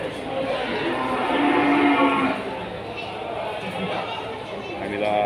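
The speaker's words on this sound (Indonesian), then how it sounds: "Nah, inilah sapi-sapi di Pasar" At Pasar Kliwon cattle market in Kudus, cattle moo with long, drawn-out calls, close and fairly loud, over a constant murmur of the market crowd and people talking.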